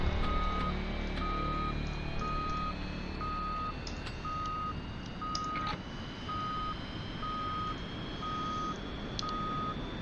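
A master warning alarm sounds in the cockpit of the AJS 37 Viggen in DCS, a steady series of evenly spaced short beeps over a constant engine whine and hum.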